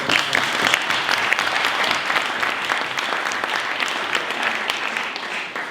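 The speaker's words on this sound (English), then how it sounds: "Let's give her another round of applause." Audience applause in a parliamentary hall, dense sustained clapping that holds steady for several seconds and fades slightly at the end.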